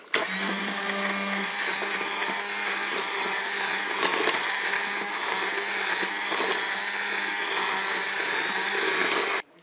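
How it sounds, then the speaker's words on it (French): A blender purees peach and orange jam in a Cookeo recipe, whirring steadily and loudly for about nine seconds before cutting off sharply, with a few brief knocks along the way and no talk. "Je vais mixer un petit peu, mais je vais garder quelques morceaux."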